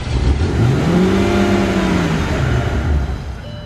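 A Mercedes S600 with a V12 engine revs up once, the engine note climbing, holding and then falling away over a few seconds, close and loud.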